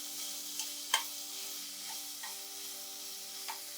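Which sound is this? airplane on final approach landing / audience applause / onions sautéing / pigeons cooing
onions sautéing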